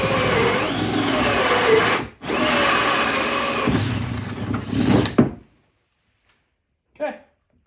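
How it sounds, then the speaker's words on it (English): A power drill with a hole saw grinds loudly through a Native Watercraft Titan 12 kayak, cutting a 2-inch hole in two long bursts separated by a brief pause, then cuts off, followed by a faint knock. "you got to drill a 2-inch hole with the hole saw again"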